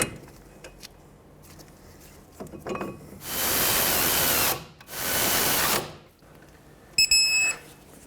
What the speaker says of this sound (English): put the 2 mounting bolts in. We'll bottom these out